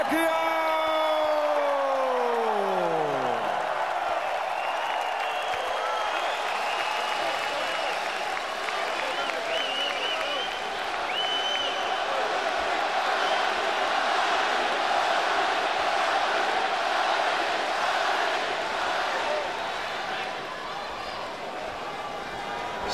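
Boxing arena crowd roaring and cheering for Manny Pacquiao after his ring introduction at a WBO international title fight, a dense, sustained wall of applause and whoops that stays loud throughout, with a fading announcer's voice at the start.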